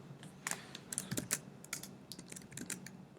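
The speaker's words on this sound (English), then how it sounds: "I'm just gonna type home" Quiet typing on a computer keyboard while entering text for a webpage header, a steady patter of light, close key clicks with small uneven pauses and no talking.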